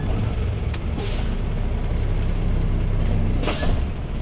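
A semi truck tugging against its coupled trailer, a loud low engine rumble with sharp bursts of air hissing at intervals, steady and close with no voices.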